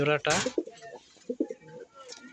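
A pigeon in a home loft gives a few soft, low coos, close by and a little muffled, following a short burst of louder fluttering or calling at the start.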